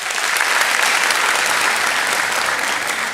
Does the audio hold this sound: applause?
yes